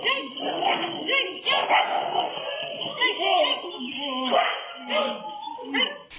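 A pack of street dogs in Kodaikanal barks and yips in a rapid, uneven series, close and fairly loud, with a voice talking over much of it.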